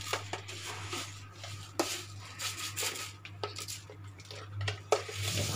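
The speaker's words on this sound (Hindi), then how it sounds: "अब मैं चीनी डालूँगी।" A spoon clinks and scrapes against a pot as sugar goes into masala tea with milk, light irregular metallic taps and stirring over a steady low hum.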